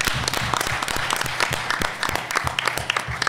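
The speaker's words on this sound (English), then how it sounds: "let me give Angela a round of applause as our moderator" An audience at a conference panel session gives a lively round of applause, with dense, sustained clapping filling several seconds and no talk over it.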